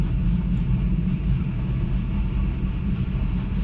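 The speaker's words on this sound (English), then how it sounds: "A big train." Big train passing on a main railway line in Romania, a loud, steady low rumble and rolling drone heard alone without talk.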